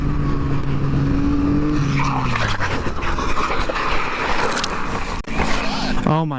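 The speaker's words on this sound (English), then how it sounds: "Front wheel slid out" A motorcycle's front wheel slides out on a corner in a crash. A loud engine drone falls in pitch beneath broad scraping and skidding noise, then a sharp jolt comes near the end.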